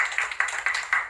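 Audience clapping at a cryptocurrency exchange presentation: a short burst of synchronized claps in a steady rhythm, about four sharp beats a second, fairly close and with no talking.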